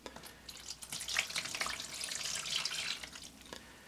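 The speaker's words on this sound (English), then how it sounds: "2 cups of water in there with them for the moisture." About two cups of water poured into a seed-starting tray of hot pepper seeds on a heat mat, a close, continuous splashing trickle lasting a few seconds with no talking.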